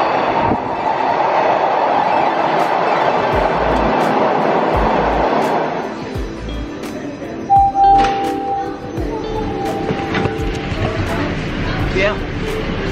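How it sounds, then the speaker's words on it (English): A Toronto subway train pulls into St. Patrick station downtown with rumbling wheels and brake noise, a brief high squeal and a door chime following, while someone talks over it nearby. "you live and learn, and that's my train!"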